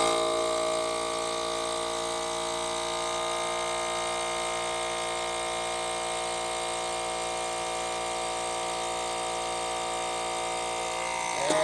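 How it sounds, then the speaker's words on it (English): A vacuum sealer sealing a plastic bag drones with a steady mechanical whir without a break, close and even, stopping abruptly at the end. "vacuum seal it"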